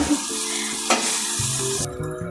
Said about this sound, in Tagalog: Haluin lang po natin guys, gaya ng paghahalo nila sa atin